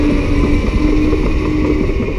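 A Cat D7E bulldozer fitted with Trimble blade leveling and a three-shank ripper, working on a highway build. Its loud, continuous low engine roar and rattle stay steady and close throughout.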